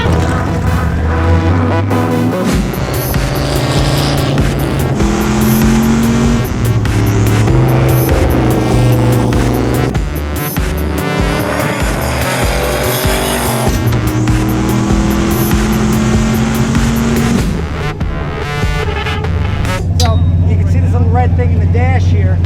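A project car is driven hard around a race track, its engine droning loud and continuously, climbing and dropping in pitch through gear changes and corners, with brief tire noise.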